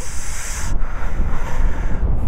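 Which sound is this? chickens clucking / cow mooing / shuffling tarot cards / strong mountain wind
strong mountain wind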